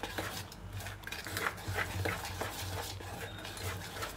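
Eggs beaten by hand in a bowl for an oven-free sponge cake: a fast, steady scraping and clicking of utensil against bowl, close and continuous throughout.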